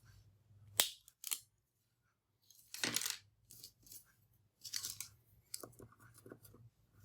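Small pliers snip through wire legs for a paper clay giraffe, producing a few sharp, crisp metallic clicks and cuts separated by silences, close up, followed by lighter fiddling and handling noises.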